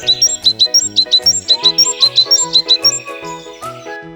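A great tit's bright, high call repeats in quick, rhythmic chirps over a cheerful plucked musical backing with a steady bouncing beat.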